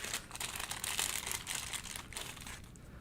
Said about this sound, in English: Here's my fancy plastic bag.